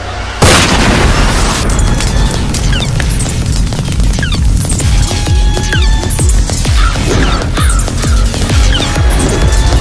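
A loud burst of firecrackers going off, a sharp initial bang followed by a rapid, crackling barrage of pops that continues without pause.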